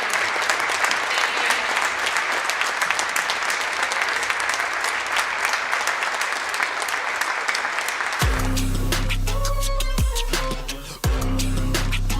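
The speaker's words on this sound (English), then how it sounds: "Please give a big round of applause for their courage and strength in the fight against cancer." Gym crowd applauding at a high-school girls basketball game, sustained clapping and cheering for about eight seconds, then giving way to loud music with a heavy beat.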